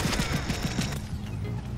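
Enemy gunfire in Plants vs. Zombies: Battle for Neighborville, a rapid run of repeated shots in a steady rhythm under a constant bed of game noise, fading into a dense background hum toward the end.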